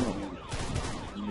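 Gunfire from the shooting video game RamBo, with a rapid cluster of shots and bursts at moderate loudness across a short span, a faint voice partly under the noise.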